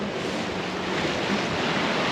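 Open-sea waves wash and churn around a sailing boat in a continuous loud roar, mixed with wind buffeting the microphone, with no voices.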